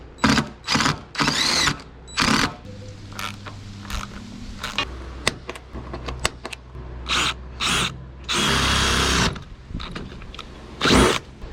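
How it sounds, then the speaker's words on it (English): Power drill boring holes into the metal roof of a Ford F-150 pickup during a roof rack installation: repeated loud whirring bursts of drilling, several short runs separated by pauses, close by. "Just drilling giant holes in the truck."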